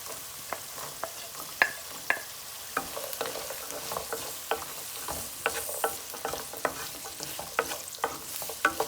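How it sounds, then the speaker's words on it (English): Carrots fry in a pan, with a steady soft sizzle and scattered crackles and scraping stirs from a utensil, close but fairly quiet, with no talk. "I'm going to fry the carrot only first."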